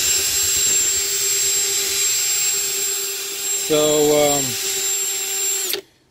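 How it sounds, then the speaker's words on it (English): A power drill fitted with a spiral paddle bit whirs steadily as it mixes foam into aircrete, a loud continuous drone that briefly shifts pitch and then cuts off abruptly near the end. "Now we're going to mix that in using our drill with the spiral bit."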